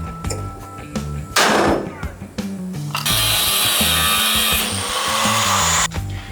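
Relief cut into the bed of a 1948 GMC pickup truck: a loud, sustained harsh cutting rasp that runs steadily for several seconds, preceded by shorter scraping bursts and handling noise.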